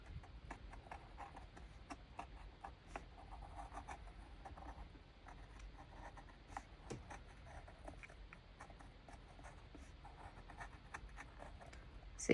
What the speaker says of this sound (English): So you can see that I'm just cutting all of it and it's coming up really easily.